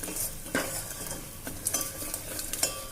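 Red chili powder and garam masala sauté in oil for a spicy chicken curry, with quick spatula scrapes and clinks against the pan over a soft, close sizzle.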